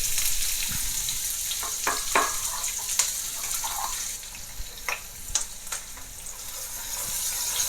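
Onions sizzle steadily in hot oil with spices, a continuous close frying hiss broken by scattered clicks and light stirring scrapes, with no voices.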